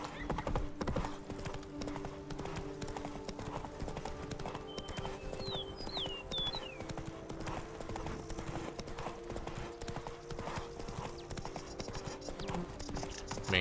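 Horse hooves clip-clop at a steady gallop rhythm in The Witcher 3, loud and continuous over game music, with a brief whinny partway through.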